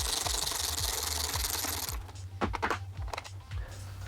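Wrench work on the last fender bolt of a Honda CBR 600 RR, a steady rapid clicking ratchet for about two seconds, then stops, followed by scattered close metallic clinks and handling noises.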